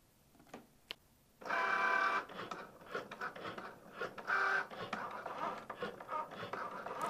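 A Cricut Joy cutting machine runs a foil transfer, starting after a couple of faint clicks into a steady close mechanical whir with rising and falling motor passes, moderately quiet and without talk.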